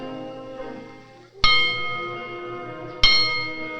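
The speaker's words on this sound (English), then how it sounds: "And there was no response to the school bell." A schoolhouse bell clangs twice, each loud metallic strike ringing out with a long shimmering decay over a quiet, slightly hollow room.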